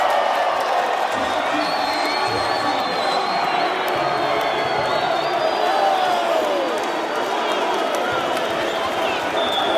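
Spectators at an Olympic qualifying volleyball match between Zambia and Zimbabwe keep up steady, dense cheering and whooping, with a commentator talking over the continuous crowd roar.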